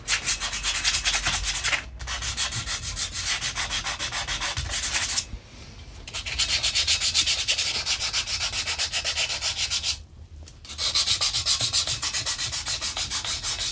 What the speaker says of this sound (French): ce qu'on peut faire c'est prendre un peu de papier de verre pour corriger la surface de la jante avant de commencer à la peindre